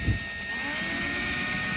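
A drill boring holes through the side cap of an RV to fit an antenna mount, a steady whining motor tone running without pause and fairly close, with no talk.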